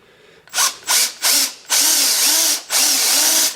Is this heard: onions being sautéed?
no